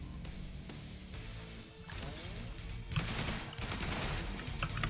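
A pump-action shotgun fires repeatedly in the zombie video game Yet Another Zombie Survivors, with sharp rapid blasts piling up over crashing impacts in a dense, busy action mix.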